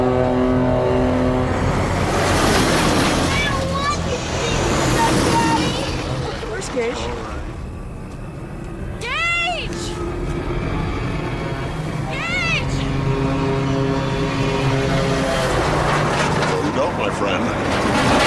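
Trucks rumble and pass along a road in an old movie scene, engine noise and revving rising and falling throughout under music and speech, with sharp screeching sweeps near the middle.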